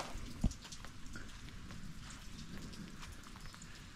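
Rain falls steadily on a camper, a dense patter of drops with one sharper knock near the start, fairly quiet and without voices.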